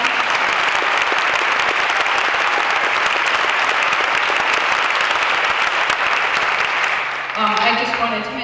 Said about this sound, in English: I would like to have everybody give a round of applause to all the volunteers that put this event together